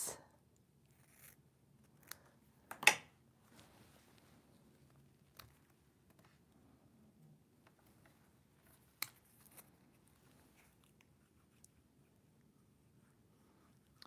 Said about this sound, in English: I'm just going to take my snips